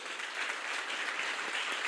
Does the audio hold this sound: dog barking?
no